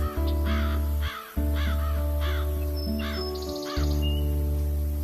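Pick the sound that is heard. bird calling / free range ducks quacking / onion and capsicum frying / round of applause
bird calling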